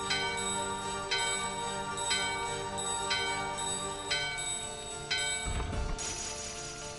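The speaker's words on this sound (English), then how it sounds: "let's ring the bell here" A bell in the Final Fantasy IX game on PS5 rings in a series of evenly spaced strikes, about one per second, each with a bright shimmering decay, followed by a brief low rumble at the end.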